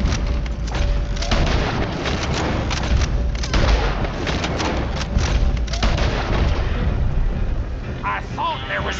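Gunfire and booms in a Red Dead Redemption 2 shootout during a dynamite wagon heist in Van Horn, dense and continuous with repeated loud shots over rumbling action, people shouting and talking throughout.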